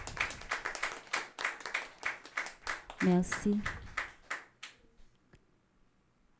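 Church congregation clapping together at a feast-day gathering, a steady run of rhythmic handclaps fading out near the end, with a brief spoken word and a soft tone mid-way.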